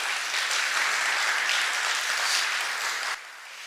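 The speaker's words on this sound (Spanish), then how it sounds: "Yo les pido un fuerte aplauso para Luis Cabrera, por favor." Dense, steady applause from a conference audience at an inaugural assembly session, a continuous wash of clapping that holds evenly before dropping off sharply near the end.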